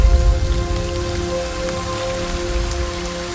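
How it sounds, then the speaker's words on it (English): Steady, dense rain falls at the start of the rainy season, an even hiss of drops on surfaces with a low rumble beneath and a faint tonal hum, continuous and fairly loud with no voices. "It's the start of the rainy season."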